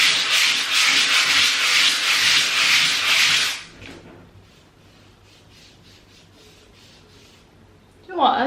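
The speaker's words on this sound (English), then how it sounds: "I think step one is just to get everything sanded down" Painted skirting boards being sanded by hand, a loud, steady rhythmic rubbing for about three and a half seconds, then faint intermittent strokes, with a brief louder noise at the end.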